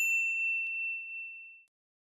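A single bright notification bell ding rings out clearly and alone, its pure tone slowly fading away over about a second and a half before silence.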